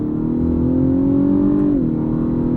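A 2021 Lexus LS500 F-Sport V6 engine hums steadily and rises in pitch as it accelerates, then drops briefly as revs fall, close and loud with no talking.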